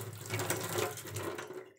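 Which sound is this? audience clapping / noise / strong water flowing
strong water flowing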